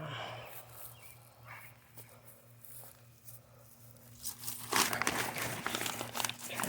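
Spiky, tall weeds being cut back by hand in a garden, with crinkly snipping and rustling of stems that grows louder and denser toward the end, over a steady low hum.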